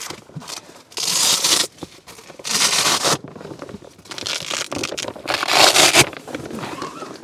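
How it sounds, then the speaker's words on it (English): Velcro-attached stiffeners torn free from a semi-rigid motorcycle luggage bag: several loud, rasping rips in bursts of about half a second to a second, separated by quieter handling rustles, close up. "they're attached with some Velcro, so sorry for the noise."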